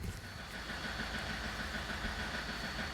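A 2007 Toyota Avensis D4-D diesel engine idles with a misfire and ticking noise, giving a steady, rough low rumble heard close up, with no voices over it.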